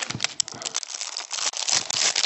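Crinkling plastic bag handled while unpacking a box holding a Typhoon GT clone, a close, continuous rustle with a few sharp crackles and no voice over it.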